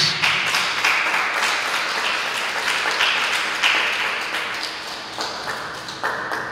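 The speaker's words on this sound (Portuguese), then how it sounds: "Vamos aplaudir o nosso Deus" A church congregation applauds in sustained clapping with recurring sharp accents, loud and continuous throughout.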